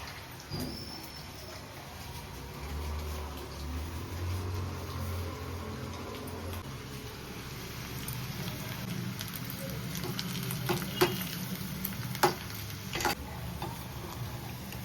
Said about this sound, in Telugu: ఇప్పుడు ఫ్రై చేసుకుందాం, మిగిలింది మళ్ళీ వేస్తాం